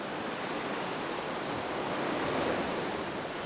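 Ocean waves rolling in at night by an island, a soft, continuous surf wash heard from a distance with a gentle swell near the middle and no voices.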